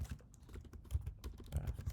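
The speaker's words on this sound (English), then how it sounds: "Today my typing is bad." Quiet keystrokes tap on a computer keyboard in irregular bursts, soft close clicks with brief pauses and no talking.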